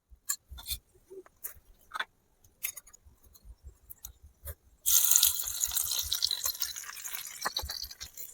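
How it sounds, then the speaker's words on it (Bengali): Spiced okra (bhindi) hits hot oil in a pan, bursting into a loud, steady sizzle after several seconds of quiet clicks and small kitchen knocks, with no talk. "এখন আমি তেলের ভিতরে মশলার সঙ্গে মিশিয়ে রাখা ভেন্ডিগুলো দিয়ে দেব।"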